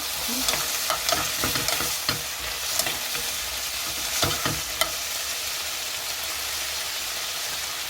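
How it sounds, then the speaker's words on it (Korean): Gochujang being stir-fried in a pot for Korean gochujang stew, a continuous hissing sizzle broken by irregular scraping clicks of a utensil stirring, steady and close, with no talking. "고추장을 넣고 같이 볶아주는구나"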